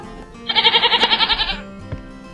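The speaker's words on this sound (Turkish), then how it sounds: "Bu bir kuzu." A lamb bleats from a children's animal puzzle game, one clear wavering cartoon bleat of about a second, loud and close, with no talk over it.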